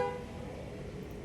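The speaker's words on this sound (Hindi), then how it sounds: "सॉरी फॉर द हॉर्न, बाहर बहुत शोर हो रहा है।" A brief car horn toot sounds outside at the start, then fades into the low rumble of outside traffic.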